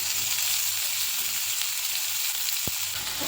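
A paste of onion, tomato and cashew frying in a pan gives a steady close sizzle throughout, with one brief soft knock near the end.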